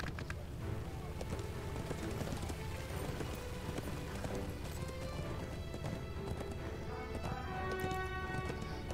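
A heavy war steed ridden through a town in an online role-playing game: steady clip-clop of hooves running continuously, layered with game music and ambient sound throughout.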